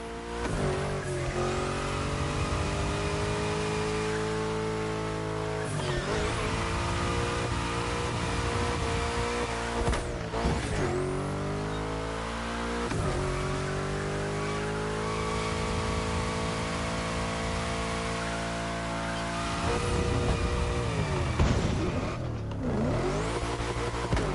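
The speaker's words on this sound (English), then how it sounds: "While you're in a bend, release the throttle, turn the steering wheel to change course, and hit the throttle again." Car engine in The Crew Motorfest racing game, revving hard and repeatedly rising and dropping through bends with tire squeals, loud and continuous with no voices.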